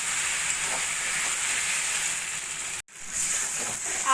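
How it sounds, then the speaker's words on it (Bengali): Cut potatoes frying with spices in a pan for chicken curry, giving a steady close hiss and sizzle that holds evenly throughout, broken by one brief dropout. "এবার দিয়ে দেবো আগে থেকে কেটে রাখা আলুগুলো দিয়ে মশলার সঙ্গে ভালো করে কষিয়ে নেব"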